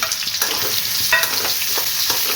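Onion frying in hot oil with chillies and curry leaves in a pan, a steady loud sizzle with a few scraping stirs throughout, no voices.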